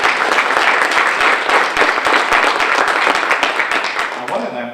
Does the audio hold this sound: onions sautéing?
no